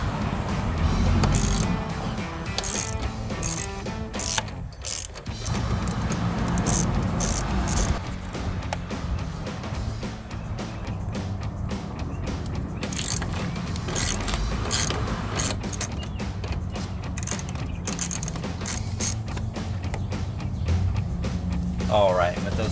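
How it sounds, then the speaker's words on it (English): An 8mm socket ratchet on an extension works bolts loose on a 2021-2023 Ford F-150 during a headlight swap, making repeated rapid clicking ratchet strokes close by, with a voice talking over the work. "We're going to use our 8mm socket with our extension again."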